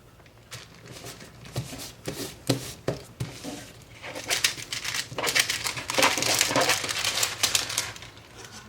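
Leftover gold embossed foil being handled and fed through a die-cutting machine for cardmaking, a steady stretch of crinkling and rustling with scattered taps and clicks, close up and growing busier toward the end, with no talk.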